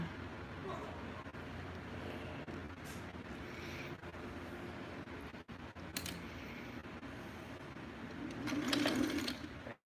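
An industrial sewing machine in need of a tune-up runs in a steady mechanical rattle and hum, with brief clicks and a short pause, then a louder burst of stitching near the end.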